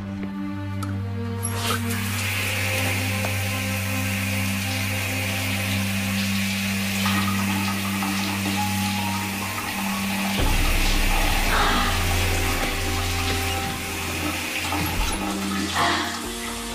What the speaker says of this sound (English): I'm gonna go take a shower.